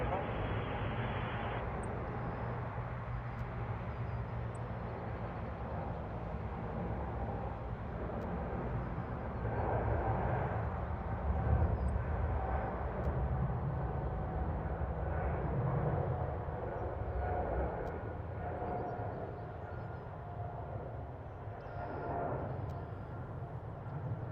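An Air Canada airliner lining up on runway 05 at Toronto gives a steady, distant jet engine roar that swells and fades gently over a low rumbling background.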